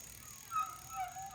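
Mountain bike brakes squealing as they are applied, giving a thin, wavering high-pitched squeak in a couple of short bursts, close and moderately quiet.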